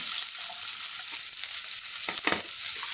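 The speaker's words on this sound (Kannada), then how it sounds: "ಸ್ವಲ್ಪ ಸಾಸಿವೆ ಜೀರಿಗೆ ಸ್ವಲ್ಪ ಚಟಪಟ ಆಗ್ಲತ್ತವ. ಈರುಳ್ಳಿ ಹಾಕ್ತೀನಿ." Mustard seeds and cumin crackle and pop in hot oil with a steady close sizzle, and a louder hiss rises briefly as chopped onion goes into the pan for a drumstick-leaf palya.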